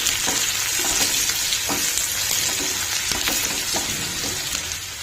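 Turmeric, fenugreek powder and cumin powder being stirred and fried in a pan for sweet potato soup, a steady loud sizzle with spoon scrapes every second or so, no talking.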